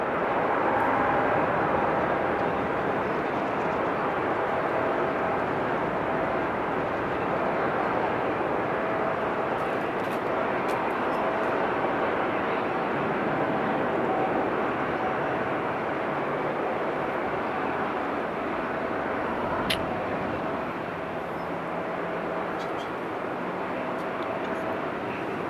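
A large jet airliner approaching an airport, a broad steady engine roar heard from a distance that holds evenly throughout with a faint whine on top and no talking.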